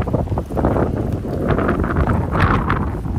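Strong wind gusting over a coastal hill, buffeting the microphone with loud, continuous low rumble and roar that rises and falls slightly, with no voices.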